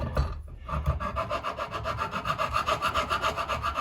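A file rasping paint off the wooden neck pocket of a guitar, in quick, steady back-and-forth scraping strokes, close and fairly loud, with no talking.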